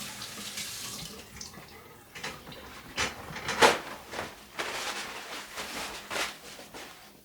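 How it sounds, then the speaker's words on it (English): Hands are scrubbed under a running kitchen sink tap, with uneven gushing and splashing surges as the water hits the hands and basin, fairly close and clear. "And wash my hands really well."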